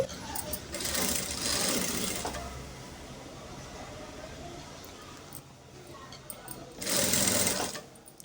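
Sewing machine stitching a katori blouse, running in steady bursts with a pause midway and another run near the end, close and moderately loud.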